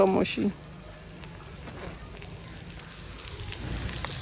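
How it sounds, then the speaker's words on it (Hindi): Okra (bhindi) frying in ghee gives a soft, steady sizzle and crackle that runs on evenly, after a brief voice at the very start. "भिंडियाँ मैं फ्राई कर रही थी, भिंडियाँ फ्राई हो गई हैं।"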